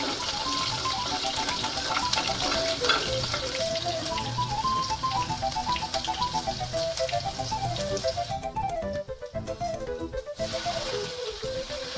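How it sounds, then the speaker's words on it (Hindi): Chillies frying in hot oil for dal, a continuous crackling sizzle with scattered pops that stays loud throughout, while a melody plays in the background. "अभी मैंने सबसे पहले मिर्च डाल दी है भाई, जैसे कि बहुत ज़्यादा पॉपिंग हो रही थी"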